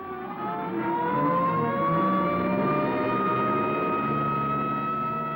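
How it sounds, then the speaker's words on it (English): A siren wails continuously, its rising and falling tone steady and fairly loud, with a faint engine rumble underneath. "here comes an ambulance out"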